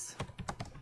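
Computer keyboard typed on while entering presenter notes in a slide presentation; a quick, close run of about five or six crisp keystrokes, heard alone.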